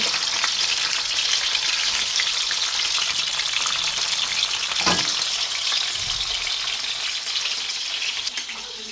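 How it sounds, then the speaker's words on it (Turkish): Sea bass fillets fry in a pan with a steady, close, hissing sizzle, broken around the middle by a brief clatter as a fillet is flipped; the frying carries on evenly afterward with no one talking. "Balıklarımız bir tarafı kızardıktan sonra sevgili takipçilerim şöyle diğer tarafları çeviriyoruz."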